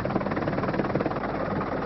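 Helicopter flying alongside two escort planes accompanying a motorized parachutist on a cross-Channel attempt toward the French coast, a steady loud rotor and engine drone filling the whole moment without breaks.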